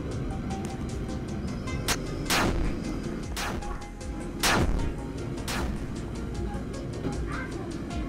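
Sci-fi gunfire from aliens in the Roblox game Build a Boat for Treasure: a series of sharp, loud blasts at uneven intervals over constant game background noise.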